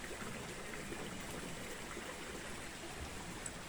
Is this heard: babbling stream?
yes